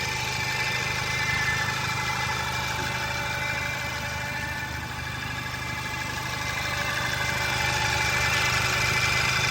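A Volkswagen Golf GTI's TSI engine idles close by, a continuous even hum and mechanical whir that holds steady throughout with no speech.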